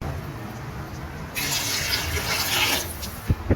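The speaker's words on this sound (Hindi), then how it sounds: "अब हम इसमें ऐड करते हैं पानी।" Water poured into a pot of matar pulao with sautéed peas, tomatoes and green chilli, starting abruptly as a steady broadband rush that runs for about two seconds, followed by a couple of small clunks near the end.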